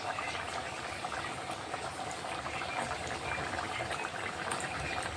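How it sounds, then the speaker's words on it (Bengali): Soybean fritters simmer in water in a covered pan, giving a soft, continuous bubbling hiss that stays faint and steady throughout with no talk over it. "এখন আমি সয়াবিনের বড়াগুলো দিয়ে দিচ্ছি একে একে।"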